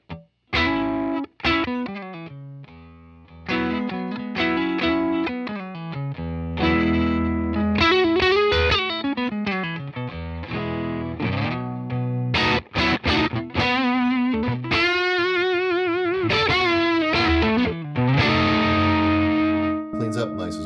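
Fender MTG tube distortion guitar pedal driving an electric guitar, the gain swept through crunchy, saturated chords and single-note lines, loud and continuous with brief pauses between phrases.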